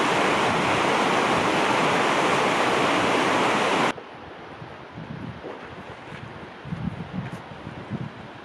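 Cascade River rushing through a canyon, a loud steady roar that cuts off abruptly partway through, leaving a quieter outdoor background with faint sounds.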